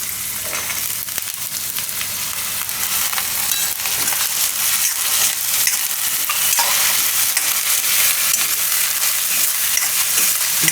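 Carrots and green peas are stirred into softened onion in a hot pan for a winter-style Maggi, giving a continuous close sizzle with scraping stirs and crackles throughout.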